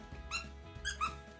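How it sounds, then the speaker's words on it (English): A squeaky octopus dog toy squeaks three times in quick, uneven succession, each squeeze a bright close squeal over a quiet room hum. "it has little squeaky things on each of its tentacles"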